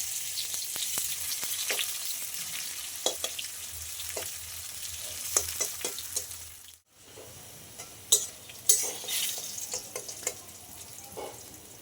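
Pieces of kakrol, spiny gourd rubbed with salt and turmeric, fry in oil with a steady crackling sizzle, sharp pops and scrapes of stirring scattered throughout, one brief break in the middle.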